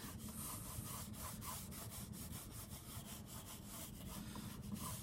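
A pencil sketches lightly on paper, outlining a drink can drawing. Soft, rapid scratchy strokes repeat in a steady back-and-forth rhythm, close and quiet, with no voices.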